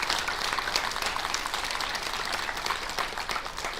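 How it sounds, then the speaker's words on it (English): Applause for girls' softball players at a 2025 high school sports awards assembly, a soft, fairly distant patter of many hands clapping steadily throughout. "Give these girls a round of applause, please"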